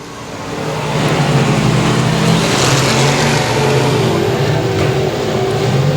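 Race cars roar around the Boothill Speedway oval, engines droning loud and steady as several cars thunder past together in a sustained, close mechanical rumble with no talk.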